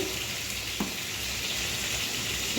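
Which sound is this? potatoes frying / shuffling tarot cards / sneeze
potatoes frying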